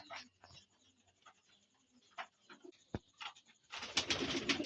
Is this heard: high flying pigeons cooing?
yes